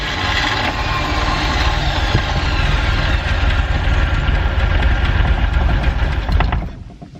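A 3.0L MerCruiser inboard boat engine starts and runs with a steady, loud mechanical drone and clattering, holding even for several seconds before cutting off abruptly near the end.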